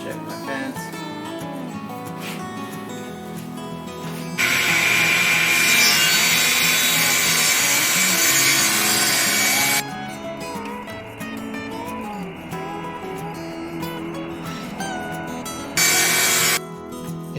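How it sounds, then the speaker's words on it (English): A table saw rips a wooden board into strips, its steady motor hum swelling into loud bursts of cutting as the blade bites through the wood, then easing back to idle between passes. "I'm going to rip this board down into 3 strips"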